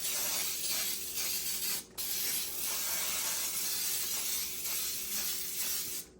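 A long, steady hiss of cooking spray coating a 9 by 13 baking dish, with a brief pause near the middle, then continuing evenly, close and fairly quiet.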